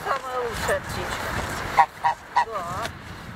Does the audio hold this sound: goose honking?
yes